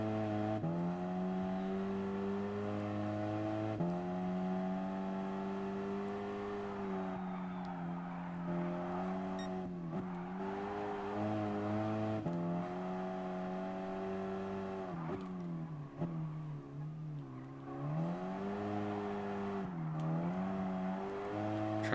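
Race car engine in the Gran Turismo Sport video game during a Sunday Cup race, a steady, loud drone that rises and falls in pitch as it accelerates and shifts, running continuously with tire noise beneath.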